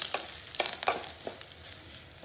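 Mustard seeds, dried chilli, chana dal and curry leaves frying in a pan while being stirred, a soft crackling sizzle punctuated by several sharp spatula scrapes and clicks, close with no voices.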